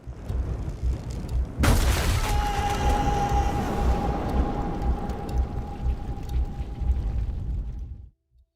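In the war video game 11-11 Memories Retold, a sudden loud blast lands amid a low rumbling battlefield din, followed by a long ringing tone and sustained rumble that cuts to silence at the end.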